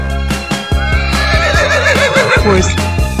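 A cartoon horse whinnies, a wavering high neigh that rises and falls over loud, rhythmic background music.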